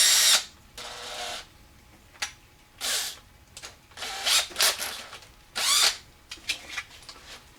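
A cordless drill spins a Pinewood Derby car axle in short repeated bursts, each whine rising and stopping, with brief pauses between runs, close and fairly quiet.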